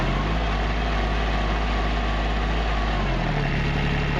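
A Bobcat's replacement engine runs at a steady idle close by, a loud continuous low drone that dips slightly in pitch near the end, with no speech.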